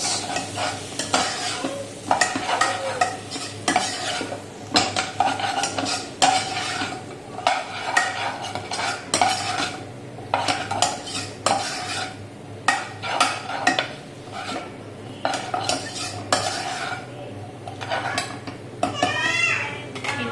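Chilli prawns stirred in a hot pan, with a utensil scraping and clattering steadily against the metal over a continuous frying sizzle, close up.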